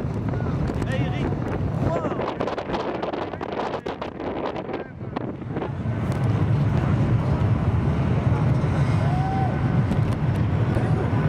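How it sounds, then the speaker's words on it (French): Strong wind roars and buffets steadily across an open beach at Le Touquet during the Enduropale event, a continuous loud rush that grows heavier toward the end. "Beaucoup de vent!"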